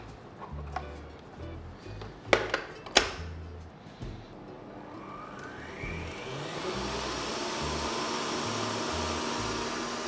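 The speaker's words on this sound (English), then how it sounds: "So we're whisking this on high speed." A stand mixer whisks egg whites on high speed for a vanilla sponge roll cake, a steady whirring drone that builds and rises in pitch over the second half after a few clatters and knocks at the start.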